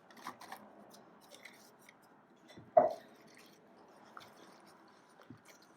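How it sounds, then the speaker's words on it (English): Buttermilk and diced apples are stirred into apple cake batter, making quiet, wet squishing and scraping sounds, with one sharper clack against the bowl partway through. "stir it around"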